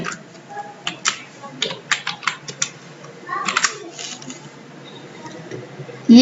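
Keys pressed on a computer keyboard, a series of distinct close clicks and taps coming in small bursts at an uneven rhythm, with a faint hum behind and no speech.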